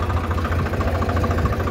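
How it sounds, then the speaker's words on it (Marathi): A tractor drives through a flooded river, its engine producing a steady, moderately loud rumble with a faint rhythmic pulse and no clear splashing. "पाणी आल्यामुळं ट्रॅक्टरनं आपण चाललोय। ट्रॅक्टर पाण्यातून घातलेलं"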